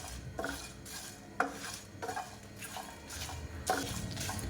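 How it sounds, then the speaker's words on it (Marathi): Curry leaves roast in a hot pan for a chutney podi and are stirred steadily, giving a continuous scraping and soft sizzling with repeated louder spatula strokes against the metal. "यामध्येच आपल्याला कढीपत्त्याची पाने घालायची आहेत आणि छानपैकी भाजून घ्यायचे आहे।"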